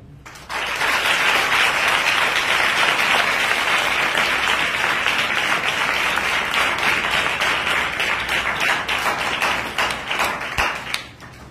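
A church congregation at a youth meeting breaks into loud, sustained applause, dense rapid clapping from many hands lasting about ten seconds before thinning out into a few scattered claps.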